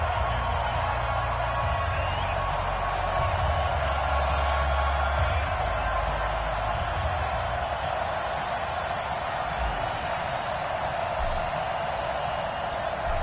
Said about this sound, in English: This crowd is ready as their guys get set to match up between the Oakland Raiders